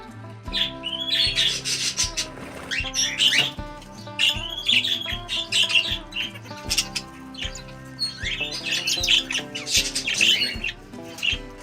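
Captive macaws and yellow-crested cockatoos on a breeding farm squawk loudly and repeatedly, harsh calls overlapping in a dense chorus with a steady low hum beneath, continuous throughout.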